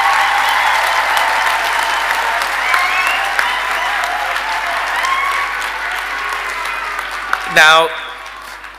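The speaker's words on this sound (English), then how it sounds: "give a big, big round of celebration and applause to these graduates" Graduation audience at a spring ceremony giving the new graduates a big round of applause: dense, sustained clapping throughout, with a voice briefly speaking near the end over a short loud bump.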